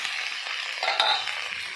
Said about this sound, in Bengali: আর দিয়ে দিচ্ছি বেগুন, দিয়ে একটু নাড়াচাড়া করে নিচ্ছি।